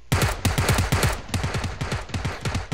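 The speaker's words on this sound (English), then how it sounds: "Yeah, that was me shooting." Rapid automatic gunfire from a player's weapon in PUBG on PS4, a loud close burst of about fifteen sharp shots in quick, even succession with nearly no pause.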